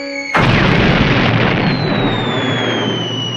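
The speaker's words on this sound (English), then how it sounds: "All of their budget went into this like explosion scene." A big explosion from the Star Trek original series episode Arena bursts in suddenly and loud, then roars on as a sustained rumbling blast, with a thin high whine sliding downward through the tail.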